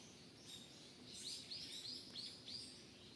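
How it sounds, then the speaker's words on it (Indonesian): Several birds sing among big trees, with a handful of high, quick chirps and short trills rising over a soft, steady outdoor hush, faint and somewhat distant. "banyak banget suara burung"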